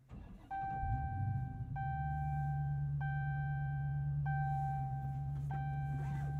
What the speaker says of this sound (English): And a rumble indeed from that Hemi V8 on startup.